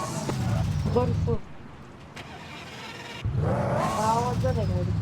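An Audi R8 engine running, a low throbbing rumble that drops away midway and then returns, with a person talking over it.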